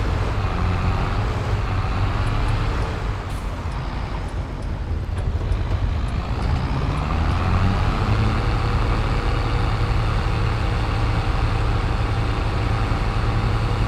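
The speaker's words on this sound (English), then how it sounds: "Okay, this is not a fast tractor." A slow tractor's engine in Farming Simulator 22 runs loud and steady with a continuous low rumble and drone that dips slightly before settling back to a constant level.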